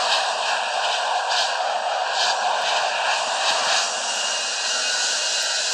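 Steady airplane engine drone in the Infinite Flight game, a loud, continuous broadband roar with a faint high whine, holding constant without pause or speech.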